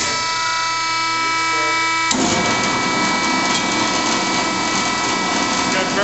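A Wells F-15U2 fully automatic horizontal band saw starts up: a steady electrical hum and whine gives way abruptly to a loud, continuous mechanical running noise with a rushing, buzzing texture, heard close.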